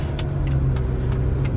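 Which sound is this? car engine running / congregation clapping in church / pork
car engine running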